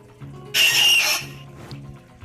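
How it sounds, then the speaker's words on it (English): A short, sharp hissing psst from the Screech creature in the Roblox horror game Doors bursts out once for about half a second over a quiet, low game background. "it'll make a little psst noise"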